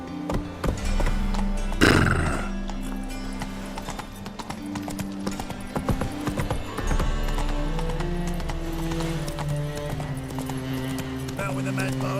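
In the video game The Witcher 3: Wild Hunt, Geralt's horse Roach gallops in a steady rhythmic clip-clop of hooves, with a loud burst early on and game sounds and voices over it.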